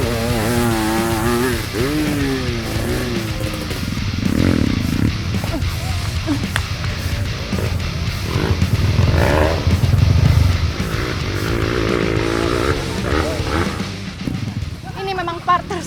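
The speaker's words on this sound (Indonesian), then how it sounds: "Motornya berhenti di ujung tanjakan." Motorcycles strain up a steep dirt trail climb, engines revving and sputtering unevenly in rising and falling bursts, with people talking and shouting throughout.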